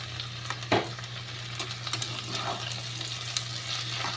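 Okra and potato frying and being stirred in a wok, a steady close sizzle broken by a few scraping stir strokes, with a low constant hum beneath.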